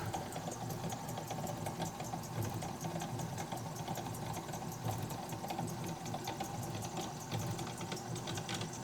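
A drill press bores roughly 3/16-inch holes for a hidden tang handle jig, giving a steady motor whine and grinding rumble that runs continuously at moderate level with no voices.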